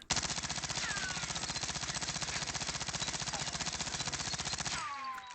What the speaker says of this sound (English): I'm going to shoot it right up the wall here.